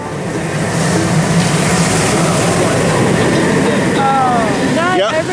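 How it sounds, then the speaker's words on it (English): Diamondback, a B&M hyper coaster at Kings Island, roars past on a run with a steady broadband rumble and water rushing throughout, building toward a splash at the end, with faint voices underneath. "This is a B&M coaster."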